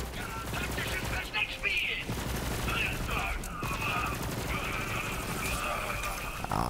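Rapid automatic gunfire rattles from a weapon in Borderlands 3, a sustained loud fusillade over a noisy battle with whistling, ringing effects layered on top.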